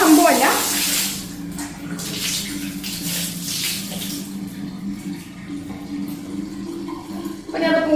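Water gushes from an opened toilet flush tank carrying loose dirt and sediment, a steady, fairly loud pouring and splashing that runs through the whole stretch with a brief surge at the start.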